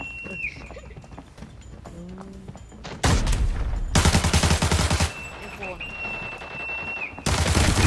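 Rapid bursts of automatic gunfire in Arena Breakout, loud and sustained, separated by quieter stretches with voices and game sounds.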